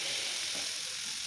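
Spice masala fries in a pan for egg curry, a dense continuous sizzle heard close and fairly loud throughout the brief moment.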